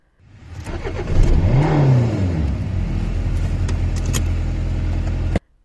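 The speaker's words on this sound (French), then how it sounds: "En un tour de clé, le moteur démarre." A car engine cranks and catches, revs up with a rising whine, then settles into a loud steady idle before cutting off abruptly.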